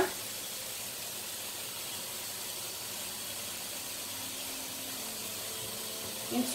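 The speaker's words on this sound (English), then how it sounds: "Pouring warm water." Warm water pours steadily into a bowl of spinach, a continuous, even hiss that runs for several seconds, close and moderately quiet, with a small splash near the end.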